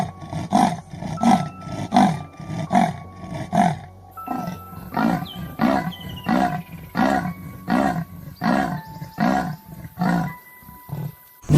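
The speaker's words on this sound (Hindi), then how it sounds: "लेपर्ड की खतरनाक आवाज।" A leopard gives a loud, close, rasping roar made of about a dozen regular sawing pulses, like wood being cut, rising and falling in a steady rhythm with no other sounds.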